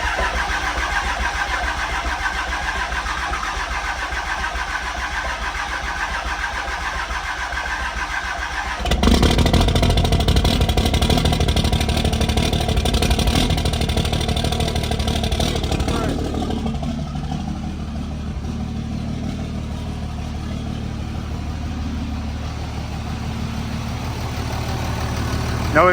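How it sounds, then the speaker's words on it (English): A newly installed 3rd generation Cummins diesel truck engine starts up abruptly partway through, then runs on loud and close, settling into a steadier, quieter idle toward the end. "So we just want to hear it run, see if we hear any exhaust leaks."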